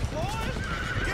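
A horse in the video game Red Dead Redemption 2 gives a clear, rising whinny near at hand, with hoof clatter below it.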